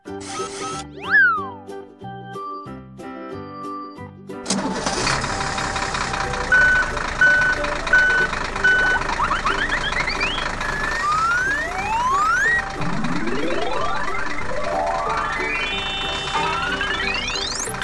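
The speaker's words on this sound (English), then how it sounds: "Fire truck." Cartoon fire truck backing up with repeated reversing beeps, heard in a run of evenly spaced tones alongside sirens, rising tonal swoops and busy music in a kids' cartoon scene.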